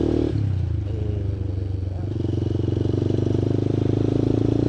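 A fairly tall motorcycle rides along a smooth-surfaced mountain road, its engine a steady close low throb with a brief shift near the start, then a rhythmic pulsing drone.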